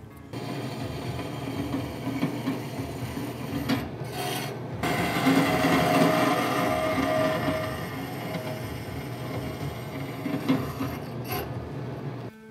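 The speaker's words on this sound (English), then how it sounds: "We'll use the vertical bandsaw and we'll cut out a little bit" A vertical bandsaw cutting a metal part for an e-bike centre stand gives a steady loud rasping grind that swells midway, with brief pauses as the feed eases, and no talk.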